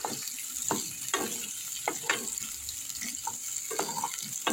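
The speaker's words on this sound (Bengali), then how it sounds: "এগুলো একটু ভালো করে ভেজে নিচ্ছি আলুগুলো" Boiled potatoes frying in a little oil, a soft steady sizzle with repeated scraping and clattering stirs of the spatula, close and fairly quiet, no voices.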